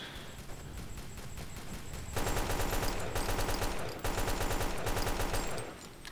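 Rapid gunfire from the Delta Force: Xtreme 2 video game, a desert-map shooter, with dense machine-gun bursts that turn heavier after about two seconds, pause briefly near four seconds, then resume loud and continuous.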